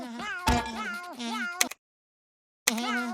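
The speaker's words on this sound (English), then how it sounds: "Are your snails still meowing?" A cartoon snail from an animated undersea comedy meows like a cat in several drawn-out, wavering cries, loud and close, with a sharp break of silence before one more meow.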